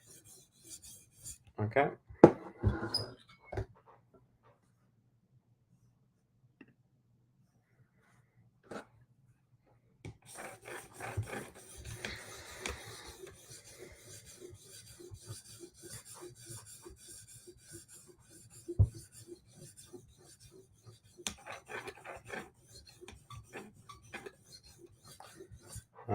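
Knife blade stroked across a 400 grit sharpening stone, a long run of faint, rhythmic rasping strokes after scattered handling knocks, with a short spoken word near the end.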